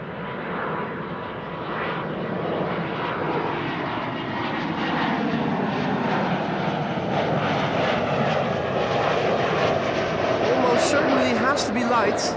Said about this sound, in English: a seemingly light A300 to Madrid in the background. Was already airborne.